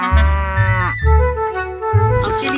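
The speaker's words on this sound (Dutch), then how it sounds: "Het zijn dus koeien." Cows low loudly nearby in a mountain setting, with two or three long, deep moos following one another in quick succession, with no talking.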